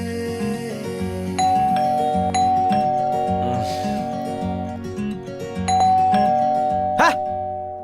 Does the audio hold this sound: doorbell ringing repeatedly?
yes